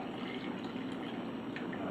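Wort draining and being recirculated through a grain bed while brewing a coriander amber ale, a steady close trickling and splashing that runs unbroken, with no voices over it.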